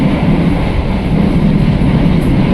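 Inside a quiet KA Motis passenger train, a loud, steady low rumble of wheels on rails fills a short stretch without a break.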